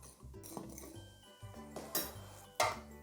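Salt and yeast are stirred together in a bowl for cinnamon roll dough, with several clinks and taps of a utensil against the bowl and soft scraping between them.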